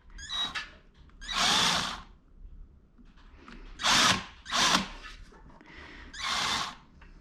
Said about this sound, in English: I'm going to use this screwdriver to put the others in